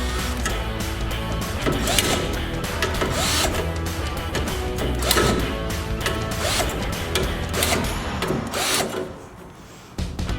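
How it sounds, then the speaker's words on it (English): A Harbor Freight spot-weld removal tool bites into metal on a Porsche 944 engine bay, grinding and chattering in loud, close, uneven bursts that carry on with no pause and then stop abruptly near the end. "This is a Spot-Weld removal tool that I got from Harbor Freight."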